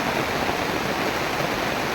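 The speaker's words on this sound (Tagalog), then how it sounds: "sobrang lakas ng tubig" Strong floodwater rushes through Barangay Taberna in Palompon, Leyte, during heavy rain, a steady dense roar of churning water filling the whole stretch without letup or voices.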